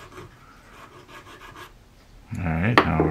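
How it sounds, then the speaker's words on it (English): Wooden model ship parts are filed by hand, soft rhythmic rasping strokes repeating quietly, followed by a louder, sudden burst of scraping and handling near the end. "maybe now is the time to do our filing and sanding while they're being held reasonably straight"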